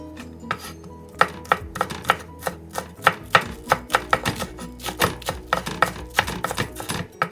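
A knife chops spring onions on a cutting board in a home kitchen for a Korean napa salad, a quick run of sharp, close knocks in an uneven rhythm, with no voices over it.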